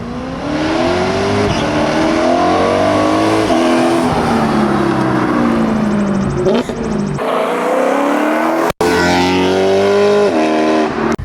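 A BMW E9x M3 with a carbon intake plenum roars loudly through its exhaust as it revs and passes close by, pitch rising and falling, then a sharp cut and another surge of engine noise.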